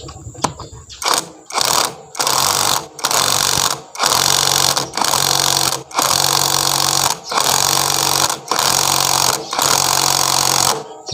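An impact wrench works on the magnetic bolt of a motorcycle cam chain tensioner on a Honda Tiger, GL series or Megapro, firing in about nine loud, close, rattling bursts separated by short gaps.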